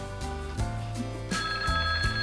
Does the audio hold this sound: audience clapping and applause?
no